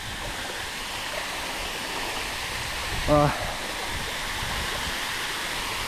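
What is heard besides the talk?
40-metre waterfall in Nicaragua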